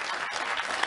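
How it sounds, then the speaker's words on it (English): Brief burst of studio audience applause on a late-night television talk show, a dense clapping wash that stays moderately loud for under a second. "yes, you can applaud."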